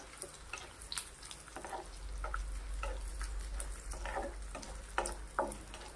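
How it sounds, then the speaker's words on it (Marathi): Edible gum (dink) fries in hot ghee, a soft, fairly quiet bed of sizzling dotted with scattered small pops and crackles as the pieces puff up. "तूप गरम झाल्यानंतर यामध्ये हा डिंक तळायला घ्यायचा"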